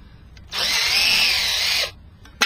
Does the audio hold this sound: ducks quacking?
no